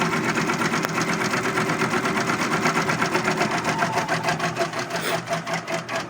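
An industrial sewing machine stitches steadily, its rapid needle-bar chatter forming a dense, continuous mechanical whir that stays close and loud throughout with a fast, even pulse.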